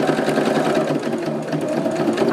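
A sewing machine with a quarter-inch quilting foot stitches steadily through two pieces of fabric, its motor a continuous close, even whir at moderate speed with no talk over it.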